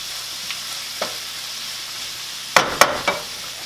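A steady sizzle comes from flauta filling with cilantro frying in a pan, with soft scrapes of stirring early on and a cluster of three sharper utensil knocks against the pan near the end.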